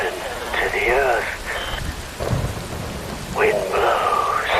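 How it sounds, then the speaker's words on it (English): Steady rain with low thunder rumbles in the Metal Gear Rising video game, a constant wash of rainfall under a voice that speaks over it. "Wind blows, rain falls."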